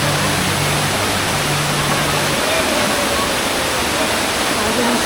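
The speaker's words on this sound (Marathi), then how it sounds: "हा जो दिसतो आहे हा धबधबा आहे." Small monsoon waterfall at Varasgaon near Pune, a loud, dense, unbroken roar of falling water heard up close, with a faint low hum in the opening seconds.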